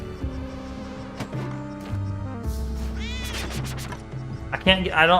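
Cartoonish cat meows in a video game, several short rising and falling cries near the end amid game music, bleeps and sound effects, with a player's voice over the top.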